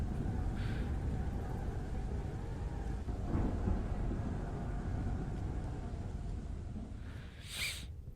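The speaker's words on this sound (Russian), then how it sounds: "Дождь, что-то там." Rain and rumbling thunder in an indie horror video game, a constant heavy wash of rainfall with low rolling thunder swells and a brief brighter crackle near the end.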